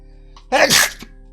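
A single loud sneeze from a streamer during a livestream drawing session, preceded by a brief sharp intake of breath and fading quickly into quiet.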